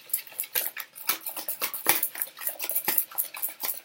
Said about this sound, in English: That's nicely mixed, the banana and the avocado.